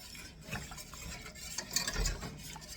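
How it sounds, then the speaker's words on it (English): A whisk scrapes and swirls through tomato-cream sauce in a pot, a continuous close, textured stirring rustle with faint sizzling and no voices. "bring this to a boil, whisking for 2 minutes"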